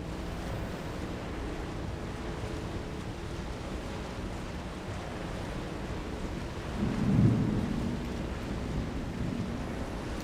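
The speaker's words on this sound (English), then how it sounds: "I don't know if you can hear the thunder in the background." Low thunder rumbles beneath steady rain-like background noise, with one stronger roll swelling near the end, heard in a Dune Awakening game session.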